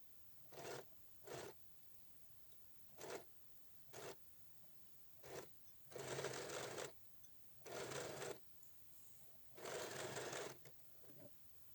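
A sewing machine stitches pinned pajama fabric in quiet bursts: several short runs of whirring, then three longer stretches of rapid stitching separated by pauses.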